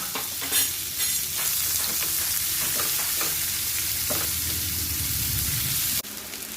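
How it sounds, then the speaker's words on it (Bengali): Onions sizzle steadily in hot oil in a wok, already seasoned with cumin and bay leaf for an egg, potato and cauliflower curry. Stirring scrapes and clinks recur throughout, close and fairly loud, with no talking. "এর মধ্যে আমি পেঁয়াজটা অ্যাড করে দিলাম।"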